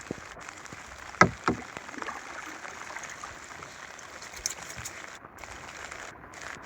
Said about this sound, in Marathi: होडी चालवायला लागते रे. एक हातात वल्ली आहे.